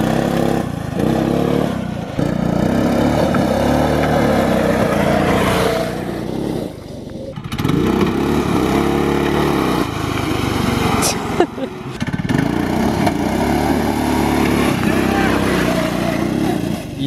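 A Power Wheels Mustang fitted with a gas engine drives close by, its small motor buzzing loudly and steadily with rising and falling revs and one brief dip, while people talk and shout over it.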